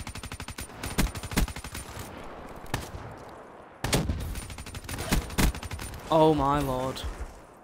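Shotgun blasts ring out in a video game shootout, a series of sharp, loud bursts in uneven clusters, with someone talking and exclaiming between shots.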